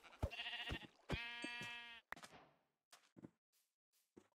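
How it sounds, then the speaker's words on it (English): Sheep in the video game Minecraft bleat twice in close succession, loud and harmonic, followed by a few soft clicks and footsteps with no talking. "Okay, I need to find some more sheep."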